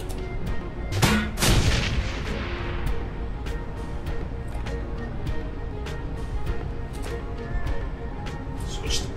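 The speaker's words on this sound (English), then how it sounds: "oh man, a grenade right there." Grenade blast in Shadowrun: Hong Kong, a heavy booming explosion early on followed by lingering rumble and scattered sharp gunfire cracks in a dense game mix.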